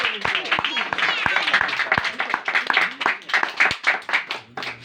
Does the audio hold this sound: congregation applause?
yes